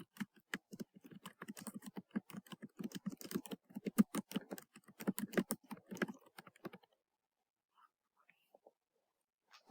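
Rapid, close typing on a computer keyboard with dense irregular key clicks for about seven seconds, then near silence with only a few scattered taps.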